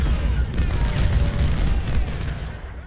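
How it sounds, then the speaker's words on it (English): Civil War artillery fire in the strategy game Ultimate General: Civil War at Shiloh, a loud, dense low rumble of booming cannon that rolls on continuously without distinct gaps. "I'm going to get let my artillery fire once more"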